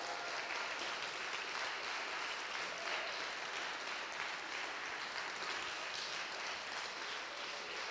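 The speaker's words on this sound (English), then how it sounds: "Can we give them a big round of applause, please?" A church audience applauds the fathers in a steady wash of clapping from many hands that holds at an even level throughout, moderately distant and without pauses.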